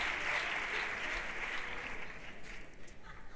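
Strong, dense applause from a crowd for a performer at a youth comedy quartet show, steady and loud throughout, fading slightly toward the end.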